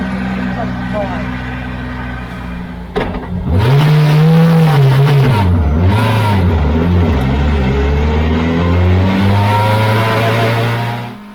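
A race car pulls out onto a circuit after a pit stop for radiator tape removal, its engine climbing loud and close through rising and falling revs as it accelerates, with a brief idle beforehand.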